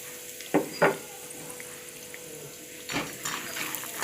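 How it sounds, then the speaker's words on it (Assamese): Peanuts frying in hot oil in a wok over medium flame, with a soft steady sizzle and two sharp clatters of stirring near the start, then more scraping and rustling toward the end. "আগতে বাদামখিনি ভাজি লওঁ"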